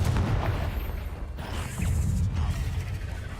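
A Confringo fire spell exploding in a Harry Potter video game, a low rumbling blast with creaking, mechanical debris noise, two heavy surges about a second apart, moderately loud with no talk over it.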